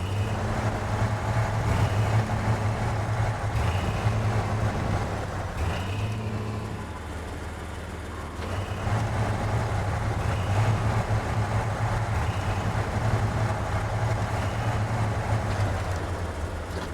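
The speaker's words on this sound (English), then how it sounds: "I'm just kind of revving it a little bit just so I can back up carefully here." A heavy truck engine in the SnowRunner game drones steadily while reversing, with low throttle swells rising and dipping in a gentle repeating pattern and no voices.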